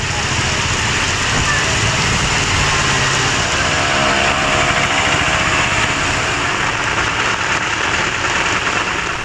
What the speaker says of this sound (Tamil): கனமழை வெளுத்து வாங்கியது